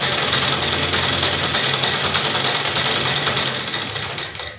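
A sewing machine runs steadily, double-stitching a yoga mat bag sewn from an old curtain, its motor whirring continuously and close up for several seconds, easing off slightly at the end.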